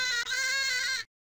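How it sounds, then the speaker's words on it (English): A single sheep bleat from the video game Hello Kitty Big Fun Deluxe (Windows 3.1), clear and close, with a brief break early on, lasting about a second before cutting off abruptly. "Sheep."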